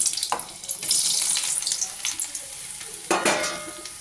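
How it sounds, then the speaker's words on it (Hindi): Soybean chunks frying and roasting in a little oil in a kadhai, a hissing sizzle with bursts of bright crackle and two louder stirring scrapes, close and fairly loud. "पहले इसको बहुत हल्के तेल में इसको फ्राई करूँगी, हल्की हल्की रोस्ट कर लूँगी इनको मैं।"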